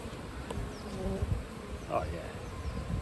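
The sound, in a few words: honey bees buzzing around an opened beehive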